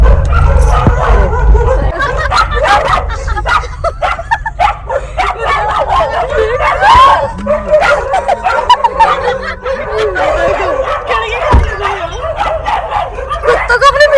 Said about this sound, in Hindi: कुत्तों को अपने पीछे पागल करा है, देखो तो कुत्ते भाग रहे हैं, पूरा मोहल्ला उठ गया